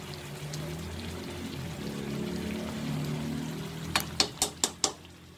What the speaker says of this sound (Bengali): আমি একটু ফ্রেশ ক্রিম দিয়ে দিলাম